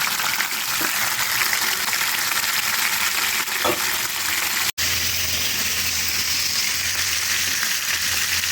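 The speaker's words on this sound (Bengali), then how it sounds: "ওই ইলিশ মাছের মাথাটাকে আমি ভেজে নেব।" A hilsa fish head fries in hot oil in a home kitchen, giving a loud, continuous close-up sizzle with a brief bubbling burst partway through.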